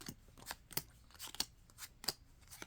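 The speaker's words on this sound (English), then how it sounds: "it's very important to do a thorough shuffle" A deck of tarot cards is shuffled close up in short crisp riffling bursts, about six quick papery snaps at a fairly even rhythm, quiet overall with no talking.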